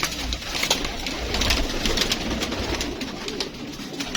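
Pigeons kept by a Karachi fancier coo in a low, steady murmur that runs on throughout, with soft wing flutters and a few brief sharper sounds from the loft close by.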